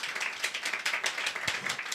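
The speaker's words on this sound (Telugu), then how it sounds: "చప్పట్లు కొట్టి ప్రభువుని గణపడదాం." A church congregation at a Sunday service clapping hands in a quick, fairly even rhythm, moderately distant and alone without speech.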